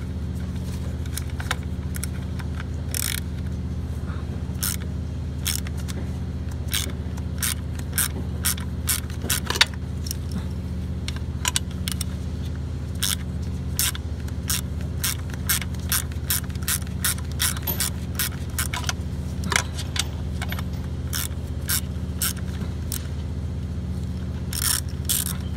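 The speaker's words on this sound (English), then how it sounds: "Now we're gonna remove these 10 millimeter for the spark plug coil with the 10 millimeter wrench. So just break it loose." A 10 mm ratcheting wrench loosens the spark plug coil bolts on an Acura RDX engine, giving a long run of sharp, rapid ratchet clicks in bursts over a steady low hum.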